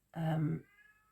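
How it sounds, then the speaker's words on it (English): A house cat lets out one loud, close meow that lasts about half a second, and then the room goes quiet with a faint hum. "My kitty cat is feeling unfortunate again."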